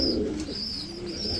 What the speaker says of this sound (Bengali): দেখতে পাচ্ছেন গররা কবুতর বাচ্চা সহকারে।